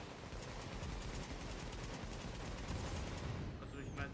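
Sustained rapid gunfire from a gun turret in Tom Clancy's The Division, a dense continuous rattle of automatic shots throughout.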